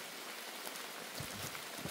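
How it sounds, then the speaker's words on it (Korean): Steady rain pours in a remote mountain valley around a bark-roofed hut, a continuous close hiss of drops on surfaces with a few louder low splashes, no voices. "비가 이렇게 오니까"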